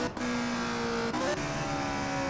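A 1963-era race car engine in the Indianapolis 500 Evolution video game, racing at Milwaukee, drops through the gears, its steady tone jumping in pitch with short breaks at each shift, near and loud.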